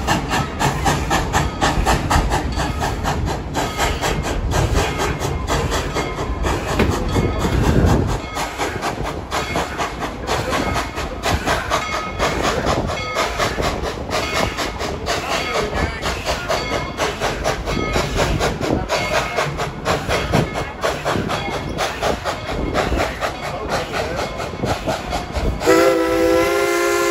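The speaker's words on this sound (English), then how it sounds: "Please stay seated while the train is moving." A Tweetsie Railroad steam train rolls along the tracks with a loud, continuous rumble and clatter throughout, and a short whistle-like tone sounds near the end.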